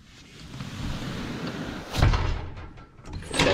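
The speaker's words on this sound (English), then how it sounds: "So when I close this door," A shop door swinging shut against a 47-foot brush seal along a metal edge, giving a soft rushing sweep that builds to a dull thud near the middle, then a second brushing swish at the end.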